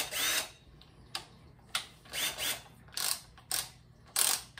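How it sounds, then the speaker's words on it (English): Short bursts from a handheld power drill used while building a DIY tripod mount for a 12.9-inch iPad Pro, several brief whirring spurts with pauses between them, close and fairly quiet, no talking. "Have my drill standing by"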